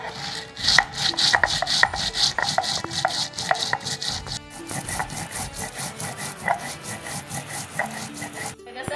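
Coriander seeds being ground by hand on a stone, a steady scraping and rubbing rhythm of repeated gritty strokes, close and moderately loud, with no talking.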